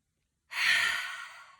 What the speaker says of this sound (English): exhale through the mouth. Really let it go.